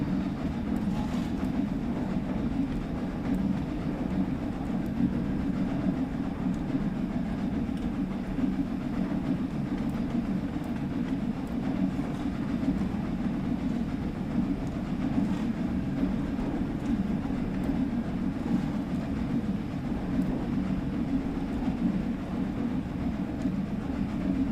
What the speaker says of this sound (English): We don't stop at Edge Hill because we're an express train